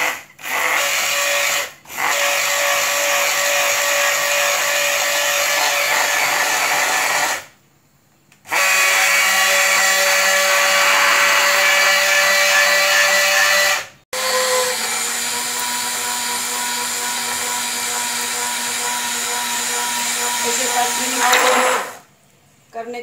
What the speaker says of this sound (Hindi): अभी मैं ब्लेंडर में ये ब्लेंड कर लूँगी।